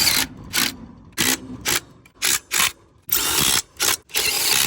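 An impact wrench tightening lug nuts on a car wheel: loud, close, repeated bursts of rattling hammering, some short and some held for longer, separated by brief pauses, with no talk.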